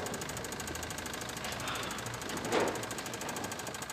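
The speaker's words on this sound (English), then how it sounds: "you hear the knocking noise?" A car engine knocks with a fast, steady metallic rapping that repeats without pause, fairly quiet and up close, with a slight swell partway through.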